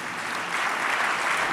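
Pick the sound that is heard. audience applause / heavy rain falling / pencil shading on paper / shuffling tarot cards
audience applause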